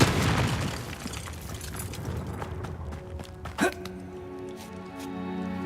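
In the video game Hogwarts Legacy, a Confringo spell sets off a fiery explosion: a loud booming burst at the start, then rumbling debris, a sharp pop a few seconds later and quieter game ambience.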